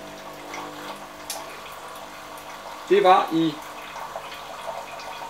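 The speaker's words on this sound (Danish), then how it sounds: "nu får den lov til lige at stå og køre lidt vand igennem for at være sikker på at rense filter" A Jura F9 coffee machine flushes water through a newly fitted filter, giving a soft, steady trickle and hiss at low level, briefly interrupted by a short spoken phrase midway.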